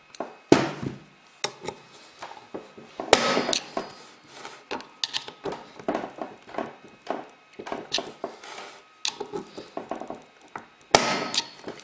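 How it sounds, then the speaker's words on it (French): A screwdriver pries a trim panel slightly apart, giving irregular close clicks, knocks and short scraping bursts separated by brief pauses, with no speech. "je vais utiliser mon tournevis et écarter un petit peu la garniture"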